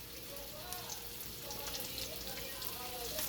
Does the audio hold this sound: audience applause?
no